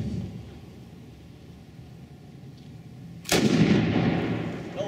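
Single-action revolver fired at a fast draw competition outdoors, one sharp loud shot cracking after a stretch of quiet ambient noise, with its echo decaying over the following second.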